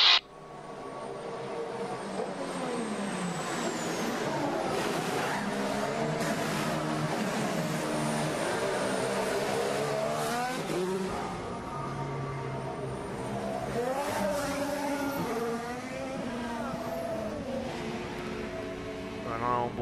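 Onboard with Sebastian Vettel's Formula 1 car at the 2014 Spanish Grand Prix race, the engine screams loud and close, its pitch climbing and dropping through gear changes, while a commentator speaks over it.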